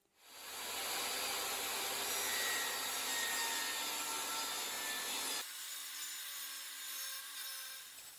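Wooden trim is sanded with a steady, close, abrasive rasping for about five seconds, then the scraping stops, leaving a quieter hiss.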